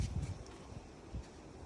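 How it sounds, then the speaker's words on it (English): Wind blows outdoors on a windy day, buffeting a microphone with low, gusty rumbles and soft rustling that stay steady throughout, with no talking. "It's a windy day."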